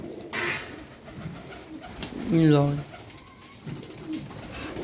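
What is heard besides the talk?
pigeons cooing in breeding setup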